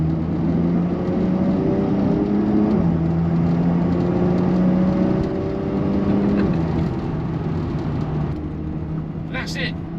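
A Porsche 911 Turbo S of the 992.1 generation accelerates hard, its loud, continuous engine drone stepping through shifting pitches over about ten seconds and easing slightly near the end.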